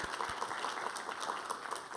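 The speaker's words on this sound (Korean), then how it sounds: "우리 하나님께 감사와 영광의 박수 올려드리겠습니다." Congregation applauding during a Sunday church worship service, a continuous, fairly faint wash of clapping from many hands that holds steady without a break and has no speech over it.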